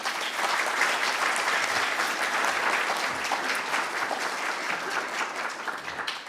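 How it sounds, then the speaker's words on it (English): Steady, dense applause from an audience at a candidate forum, clapping continuously at an even level for several seconds. "Please give him a big round of applause."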